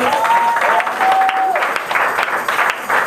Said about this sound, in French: acclamons la parole du Seigneur